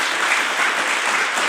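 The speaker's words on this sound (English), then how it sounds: "Round of applause." A live audience bursts into brief, even applause, a loud, continuous wash of clapping hands with no voices standing out.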